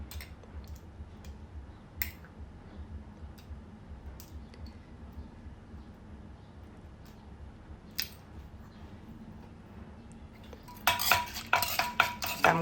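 Glass noodles with papaya-salad seasonings and pickled field crab are pounded and mixed in a mortar. A few isolated sharp knocks sit over a quiet background, then a quick burst of clattering ends the clip.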